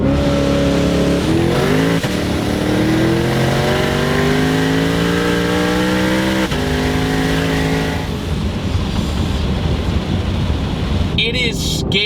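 A 1200-horsepower twin-turbo Shelby GT500 street car accelerates hard, its engine note climbing steeply through the gears with a brief shift break, loud and close inside the cabin under heavy wind roar, fading to rushing noise at the end.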